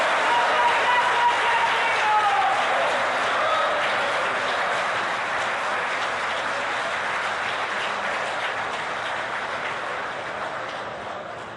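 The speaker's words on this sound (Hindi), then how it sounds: "करतल ध्वनि तालियां बजाकर स्वागत करिए इस ऐतिहासिक पल का।" Sustained applause from a large audience welcoming a historic moment in the new Parliament building, a broad even wash of clapping that slowly fades toward the end.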